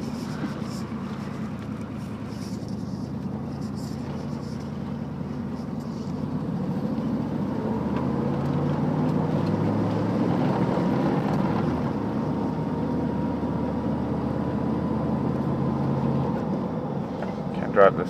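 An old Chevy truck engine rumbles low and steady while driving, with wind noise and a slight rise in loudness partway through; someone talks over it.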